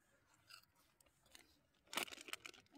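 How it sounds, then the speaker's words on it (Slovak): Close, crisp crunching and chewing of paprika-flavoured snack balls, soft bites early on, then a loud burst of crunches near the end. "Dlho sa chrúma."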